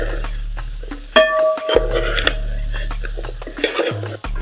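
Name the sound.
stirring chicken perattu masala in a pan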